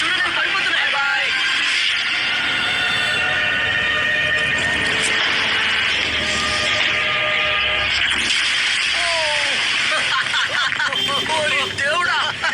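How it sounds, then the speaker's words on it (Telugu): Buses stuck in a pit give off steady electronic beeping and horn blasts, continuous and fairly loud throughout with a busy noisy background. "బస్సులో బీప్ శబ్దం వినబడుతుందా? అవి హార్న్ కొడుతున్నాయి."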